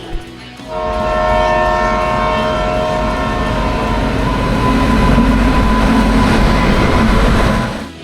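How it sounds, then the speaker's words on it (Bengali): A train pulls into a station on the Santragachi line: a long, loud rolling rumble of wagons with a sustained horn near the start, steady and close for several seconds before easing off. "ট্রেন চলে এসছে"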